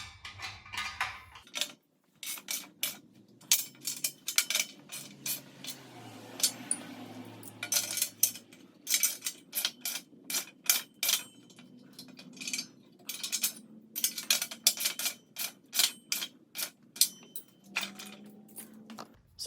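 Bolts are tightened with a wrench during assembly of a 12-ton Central Machinery shop press, giving a long series of sharp, closely spaced metallic clicks and ratcheting ticks in uneven bursts, close up with brief pauses.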